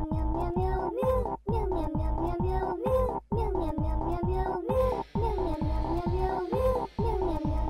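Cat meowing over and over in a steady rhythm of long, wavering cries with brief gaps between them, loud and close, with a hiss of noise joining the second half.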